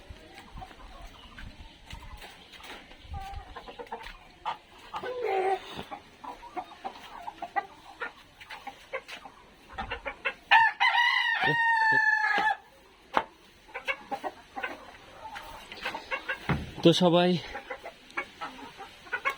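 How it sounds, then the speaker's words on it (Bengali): Backyard chickens cluck intermittently while a hen gives a loud, drawn-out cackling call before laying eggs, followed later by another burst of calls, with a person speaking briefly in between. "এই যে একটা করকর করতেছে ডিম দেওয়ার জন্য"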